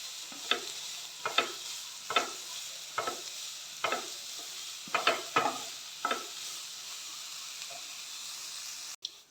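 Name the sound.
onions being sautéed and stirred in a pan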